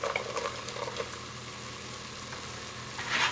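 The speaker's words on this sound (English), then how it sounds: "So we are going to add in the shallots." Shallots and mushrooms sizzle steadily in a hot pan while the mushrooms release their liquid, with a constant close-up crackle and a few brief stirring scrapes.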